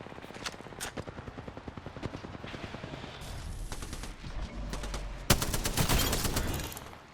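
Video game gunfire: rapid bursts of automatic shots, loud and close, rattle through, followed by a denser, heavier volley near the end.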